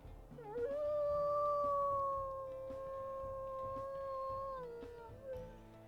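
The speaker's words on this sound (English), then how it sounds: "But let's go ahead and we'll listen to her howls." A female wolf in the video game WolfQuest lets out one long, sustained howl that rises at the start, holds steady and slowly falls, sounding clear and close with no talking over it.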